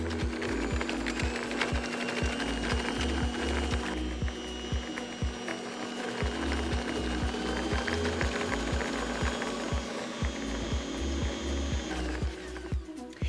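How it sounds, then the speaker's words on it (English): An Ankarsrum Assistent Origin stand mixer whisks butter and sugar in its bowl, giving a steady, loud mechanical whir with a rhythmic rattling clatter that runs continuously without talk. "Now we're going to gradually turn up our speed until our butter and sugar creams together."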